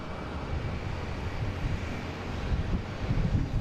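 A fixed-wing aircraft, a KPI flight from Rutland, lands on runway 4 right at Boston Logan airport: a steady, broad engine roar mixed with wind rumble on the microphone, swelling slightly toward the end, fairly distant, with no talk.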